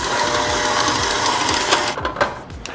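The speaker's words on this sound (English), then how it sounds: "We're going to use about a medium speed on the stand mixer." A stand mixer beats cream cheese at medium speed, a loud steady motorized whir with rhythmic churning that carries on without pause and then eases slightly near the end.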